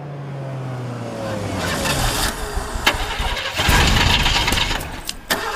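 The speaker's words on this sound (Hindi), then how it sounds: "गाड़ी चालू नहीं हो रही सर।" A car engine cranks repeatedly without catching, a grinding starter whir rising and stuttering over several seconds with clicks and scrapes, close by and fairly loud.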